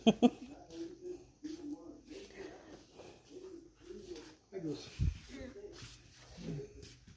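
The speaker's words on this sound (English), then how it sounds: "Wow, that's a lot of young birds." Young birds, likely pigeons or doves, give repeated soft coos and calls near the listener, with people talking over them.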